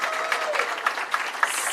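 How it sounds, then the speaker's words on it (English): An audience at the opening of JBJ Soul Kitchen gives a steady wash of applause at moderate volume, with a faint voice underneath. "Let's get a round of applause there."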